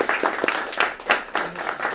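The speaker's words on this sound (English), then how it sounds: "Let's clap Sunrise up, our partner" Audience applause at a Philadelphia mayoral event on an extended school year, a short burst of clapping with talk mixed through it, moderately loud and near.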